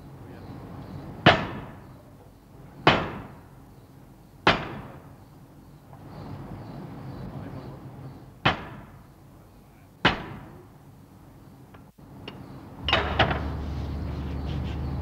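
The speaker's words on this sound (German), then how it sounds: "kommt der Stahlblock unter den Hammer. Hier wird der Block zunächst entzundert." Heavy metallic forging hammer blows on a hot steel block in a drop forge strike one at a time at irregular intervals, each a sharp clang with a ringing decay, and a low rumble follows near the end.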